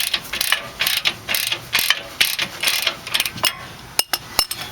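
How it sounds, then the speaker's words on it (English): A 1/2-inch ratchet backs a bolt out of the control arm on a 2004 Nissan Murano, with close, crisp, rhythmic bursts of clicking pawl action in repeated strokes. "you can use your small 1/2-inch ratchet and just take it off"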